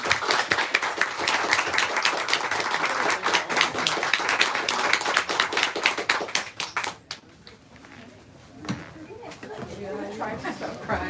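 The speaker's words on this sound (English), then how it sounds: "Let's give these two one last round of applause" A bookstore author event audience applauds warmly, steady crowded clapping for several seconds that fades out as a voice begins talking.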